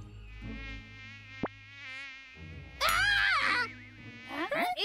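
Cartoon mosquitoes buzz in a Boonie Cubs animated scene, a whining drone that rises into a loud, wavering swarm near the end, with a brief sharp accent early on and no talk over it.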